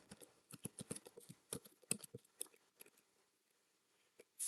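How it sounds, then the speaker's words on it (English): Calculator buttons being pressed to enter values, a quick irregular run of soft, close plastic clicks that thins out and pauses near the end. "go over to list 2 and type in my f values"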